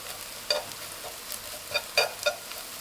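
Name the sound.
stir-frying scrambled egg with dried small shrimp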